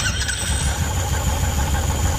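A Royal Enfield motorcycle with a faulty electric self-starter runs close by: a loud, continuous mechanical whir with a thin squeal over a low engine rumble, steady throughout with no voices.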